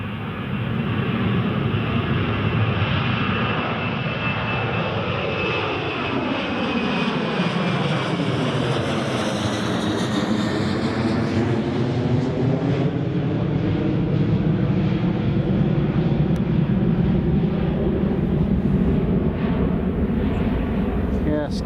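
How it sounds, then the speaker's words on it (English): A fixed-wing airliner takes off at Newcastle International Airport, its jet engines roaring loud and steady throughout, with the whine sweeping in pitch as the aircraft passes and climbs away. "That's a nice long takeoff."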